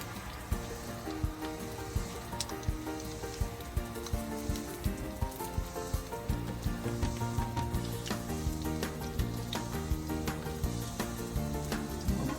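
Onions frying slowly in a pan for a large sandwich, a continuous close sizzle with fine crackle and faint regular ticking, steady and moderate in level, with no talk.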